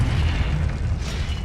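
A Confringo spell explodes in the video game Hogwarts Legacy as a loud, dense, rumbling boom that fills the whole short moment without a break.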